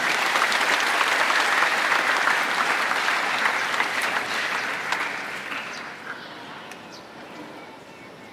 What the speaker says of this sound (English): I request you to please give perhaps the biggest round of applause to these people.